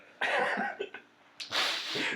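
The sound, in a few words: a person sneezing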